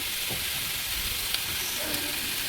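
Tomatoes fry in a little oil in a pan, giving a continuous bright sizzling hiss with a few faint stirring scrapes.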